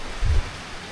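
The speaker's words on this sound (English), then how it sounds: "Non-stop rain" Non-stop rain makes a steady, even hiss through the whole moment, with one brief, deep thump early on.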